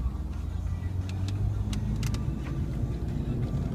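A 2005 Chrysler Sebring Touring convertible accelerates with a steady, moderate engine drone and road rumble heard from inside the cabin, with a few brief clicks and rattles over the hum.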